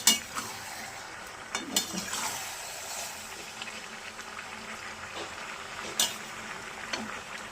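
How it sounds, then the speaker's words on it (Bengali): Two kilograms of mutton being browned for a spicy curry are stirred in a large kadai, with scraping and occasional metallic clinks of the spoon against the pan over a soft, steady sizzle. "আর বারে বারে নাড়ছি, কারণ তলায় আবার লেগে যাবে ওই জন্য।"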